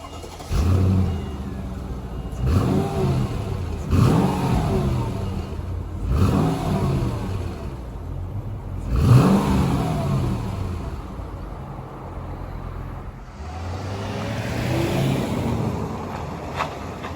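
A Mercedes ML with the M113 V8 engine revving in repeated bursts, about five sharp throttle blips that rise and fall with gaps between them, close and loud with no talk.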